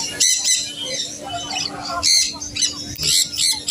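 Budgerigars squawk at an outdoor bird market in a quick burst of several harsh, close calls, with faint crowd background beneath them.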